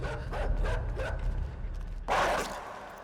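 A dog in the video game Inside barks and yips in a few sharp bursts, followed by a louder, harsher bark near the end, over a low rumbling background.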